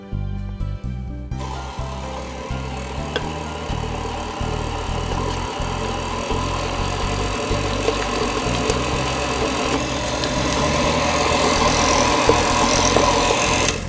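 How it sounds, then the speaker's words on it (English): An electric mixer runs on low speed through pumpkin spice cake batter, a steady close motor whir with a rhythmic, slightly knocking churn that grows a little louder toward the end. "We're going to go ahead and put in an egg, one at a time, into our mix. And again, you're going to mix on low speed."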